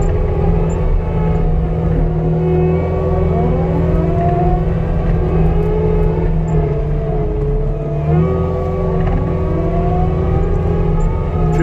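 A vehicle engine runs steadily in high gear while stacking logs, a loud continuous drone with slowly shifting pitch that never lets up.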